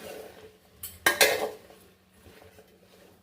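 A spoon or ladle stirs avial, a mixed vegetable dish, in a metal cooking pot, giving a cluster of sharp clinks and scraping knocks near the middle, then a quieter rattle fading out, close and otherwise calm.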